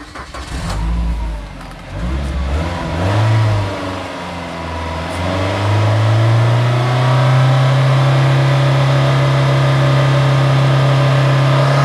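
Engine of a 2007 Suzuki Grand Vitara JLX automatic revved up to about 5000 RPM, loud and close, rising through uneven surges before settling into a sustained high, droning hum.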